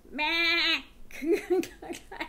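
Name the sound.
goat bleating sound effect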